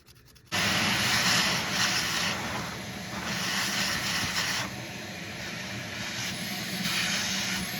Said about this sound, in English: Let's scrape all this out of here.